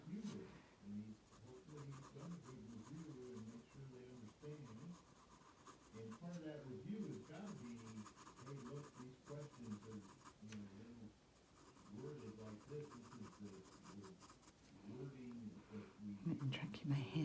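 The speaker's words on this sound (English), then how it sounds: "Use the side of my pencil to shade." The side of a pencil shades across paper while drawing a tulip with water drops, a faint steady rubbing scratch under continuous quiet talking.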